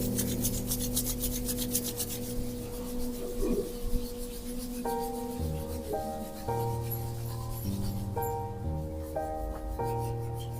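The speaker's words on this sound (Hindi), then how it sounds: "हथेलियों को आपस में रगड़ते हुए आंखों के ऊपर रखेंगे।" Palms rubbed briskly together during a yoga pranayama class, a steady dry rasping over the first few seconds, then carried on beneath sustained, shifting background music.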